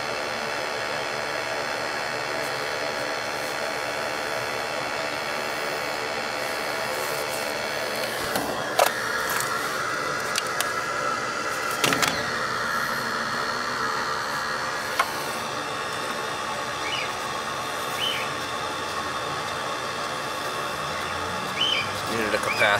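A Goodman gas furnace runs after its gas pressure was lowered and its flame sensor cleaned, giving a steady, even mechanical drone with a few scattered clicks and knocks over about twenty seconds.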